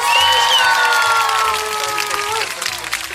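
A studio audience claps and cheers to welcome a special guest onto a talk show, the crowd noise loud and steady throughout, with whoops and shouts rising over the clapping.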